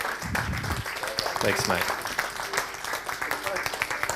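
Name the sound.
applause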